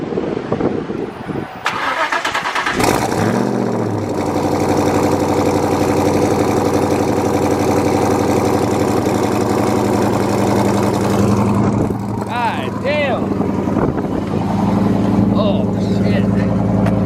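A Shelby GT500 engine cranks and fires up, then settles into a loud, steady, close-up rumbling idle that runs on without a break, with some faint background voices and noises later on.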